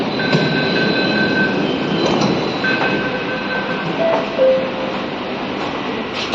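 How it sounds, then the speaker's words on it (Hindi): A metro train arriving at a station, a loud continuous rumble and rush with thin metallic wheel squeals rising over it, close and unbroken throughout. "तो चलो मेट्रो भी आ गई, अब फटाफट चलते हैं मेट्रो से घर की ओर।"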